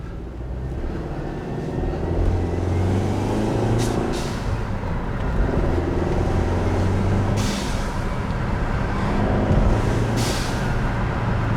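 A Mercedes C250 with no exhaust fitted and an aftermarket blow-off valve, heard as a steady engine drone with two or three short bright hissing bursts as air vents between gear changes.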